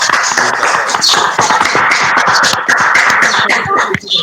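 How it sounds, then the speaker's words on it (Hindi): Listeners give a student a hearty round of applause after her presentation, a dense, loud wash of many hands clapping continuously from start to finish. "उसके लिए तो एक बार जोरदार तालियां हो जाए"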